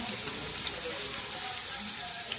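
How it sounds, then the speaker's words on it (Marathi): Water poured into a crushed garlic and cumin paste in a pan of hot oil with mustard seeds, giving a steady watery hiss and crackle that runs evenly throughout without pause. "हे कुट्टा कालवून घेऊ थोडं पाणी टाकून"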